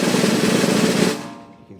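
A snare drum buzz roll, a dense, continuous press roll held steady for over a second. It sounds close, then cuts off into a short ringing decay.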